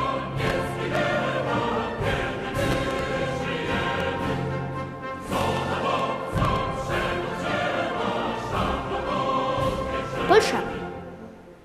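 The Polish national anthem melody plays continuously and fairly loudly as a guessing-game cue on a television quiz show, with a steady, full musical texture and no clear speech.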